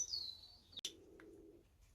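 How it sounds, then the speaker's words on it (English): Black-cheeked and marsh lovebirds give faint chirps and a high whistle, with one brief sharp call in the middle and a soft low tone after it, all quiet and nearby. "what we've got here are some of our lovebirds"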